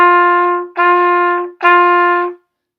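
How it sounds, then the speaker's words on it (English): A trumpet plays three sustained notes of the same pitch in regular tonguing, each separated by a short clean gap, loud and close with nothing else heard. "as opposed to regular tonguing might sound like this."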